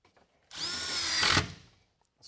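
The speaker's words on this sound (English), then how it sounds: "Take your drill," A power drill whirs up for about a second with a rising whine, driving a screw into steel board and batten siding close by, then stops.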